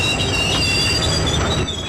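A train grinds to a halt after the emergency chain is pulled, a sustained loud metallic wheel squeal over heavy rumbling, steady and close with no talking.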